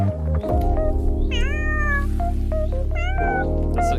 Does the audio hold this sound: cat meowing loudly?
yes